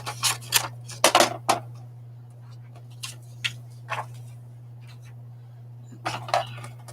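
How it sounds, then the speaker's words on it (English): Scissors cutting through magazine paper, a series of short crisp snips in uneven bursts, close and fairly loud over a steady low hum, with quiet pauses between cuts. "go to scissors here."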